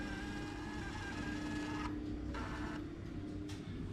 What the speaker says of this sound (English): which is now connected via Bluetooth to this Fomamo Bluetooth printer. I've asked it for 6 copies.